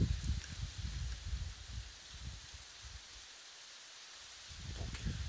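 Wind rushes through pine trees outdoors, a steady broad hiss of rustling needles with low gusty rumbles that swell at the start and end and ease briefly in the middle, with no voices.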